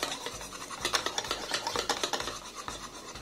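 A spoon stirring dhokla batter in a bowl after Eno is added, a steady rhythmic scraping and swishing in one direction, repeated strokes close by with no talking.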